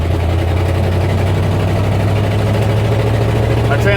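A truck with a failing, sticky transmission runs with a steady low engine drone, heard up close and loud as it goes into third gear, while a person talks over it.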